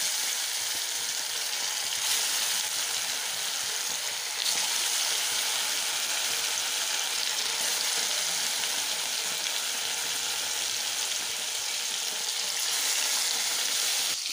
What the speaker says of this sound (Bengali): এখন মাছগুলো ভাজা করে নেব।